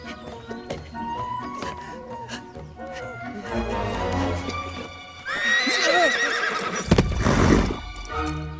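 A horse neighs loudly in a shrill, wavering whinny amid busy background noise and scattered clattering, with a burst of louder commotion toward the end.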